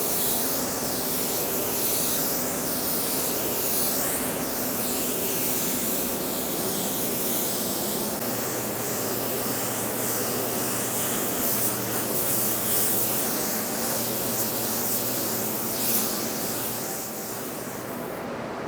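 Steady, continuous spray-gun hiss as a second coat of paint goes onto a car in a home garage, loud and close with no pauses or talk.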